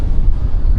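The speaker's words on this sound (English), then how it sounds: "Unfortunately, you can hear the wind" Strong wind buffeting a microphone on a beach at Playa del Carmen, a loud low rumble that gusts and surges without a break.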